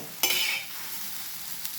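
Sliced okra fries in a pan with a steady, quiet sizzle, broken near the start by one brisk scrape of a spatula stirring it, with no voices.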